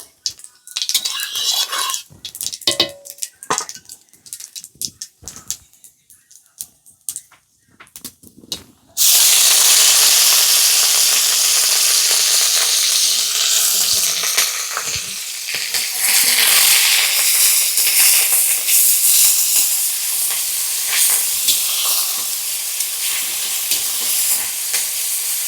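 Sliced onions hit hot oil in a pan on a gas stove with a sudden loud, steady sizzle and hiss that holds through to the end, after a few scattered clinks of utensils and quiet cooking noises.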